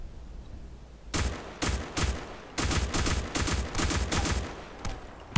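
Gunfire in the online shooter Black Squad, with several loud, fast bursts of automatic fire separated by short pauses, after a quiet opening second.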